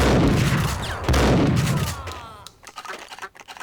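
Gunfire in the video game Max Payne: a loud burst of several close shots with long booming tails, fading into scattered quieter clicks and impacts.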